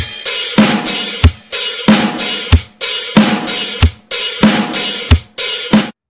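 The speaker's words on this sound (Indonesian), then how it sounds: "Kemudian gabungkan semua ketukan lambat yang ke-9 ini, lalu ketuk memakai tempo yang standarnya" A steady drum kit groove with kick, snare and open and closed hi-hat, repeating in an even pattern of crashing hats and sharp snare hits, close and loud, with no talking.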